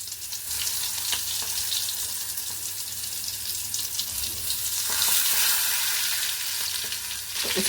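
Stuffed parwal (pointed gourd) kalonji frying in oil over a low flame, giving a steady, close sizzle with faint crackle throughout and a brief watery or stirring swell midway.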